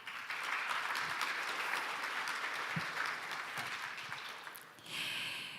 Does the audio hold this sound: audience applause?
yes